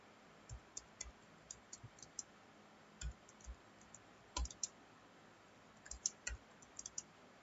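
Someone typing an HTML program into Notepad on a computer keyboard, soft scattered key clicks in uneven bursts, faint and close against quiet room hiss.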